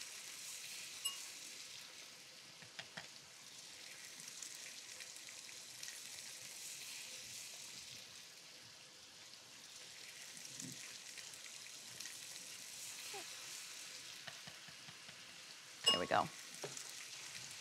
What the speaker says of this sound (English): it gives us something to do while we wait for the sausage to cook